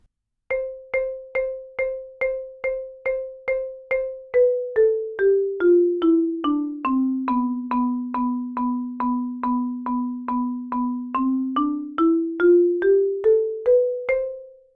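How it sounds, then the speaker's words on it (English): Steady eighth-note piston strokes on a mallet keyboard, evenly spaced bright ringing notes that step down in pitch, hold, then climb back up over about fifteen seconds, clear and alone. "that one's really good for working on your piston strokes and getting a nice solid sound down the keyboard"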